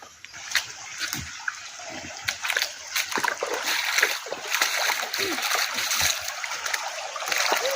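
Splashing in cool mountain water at a hillside village after a long hike, busy and continuous with irregular slaps and sloshes close by, with voices talking and calling over it.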